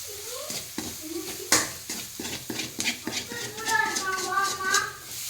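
Masala sautéing in a pan with a spoon stirring and scraping, a soft sizzle running underneath, a sharp clink of utensil on metal, and a voice talking over it.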